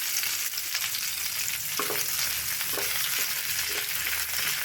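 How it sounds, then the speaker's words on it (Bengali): Chopped onions fry in hot oil for a mutton kosha. The close, continuous sizzle carries a few soft stirring knocks. "পেঁয়াজটা একটু ভাজা ভাজা করে নেব"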